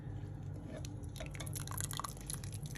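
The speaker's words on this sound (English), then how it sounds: "the next process is to drain the water" Water drains from Nigerian wara (tofu) through a sieve, a quiet close trickle of drips and splashing liquid falling into a container below.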